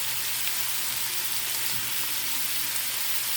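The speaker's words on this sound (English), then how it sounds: "Once your sausage is about halfway cooked, you're going to add in your diced onion and start to get that browned as well." Sausage and diced onion frying in a pan for Zuppa Toscana soup, giving a steady, dense sizzle that runs evenly throughout, close and fairly loud, with no talking.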